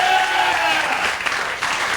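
A television studio audience bursts into loud applause during a 1993 late-night talk show, a dense burst of clapping heard close and under a voice talking.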